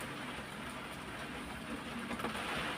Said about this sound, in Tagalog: Patuloy pa rin po ang hagupit. May lakas pa rin po yung hangin